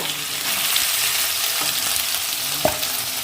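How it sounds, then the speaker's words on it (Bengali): Chicken pieces frying in a pan, a steady close hiss of hot oil with a faint scrape of stirring near the end, no talking. "একই রকমভাবে সব কটা পিস আমি ভেজে নেব"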